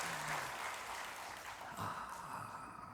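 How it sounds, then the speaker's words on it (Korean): A church congregation claps for the worship band, a steady wash of applause filling the sanctuary at moderate volume, fading slightly toward the end. "은혜로운 찬양 올려드릴 우리 시원 찬양돌이 악기팀 뜨겁게 격려의 박수 하십시다."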